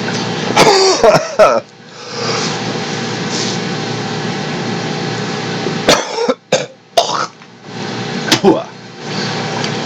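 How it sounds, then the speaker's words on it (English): A person coughs harshly several times in close, loud bursts with pauses between, against a steady background hum. "I'm still coughing up the phlegm"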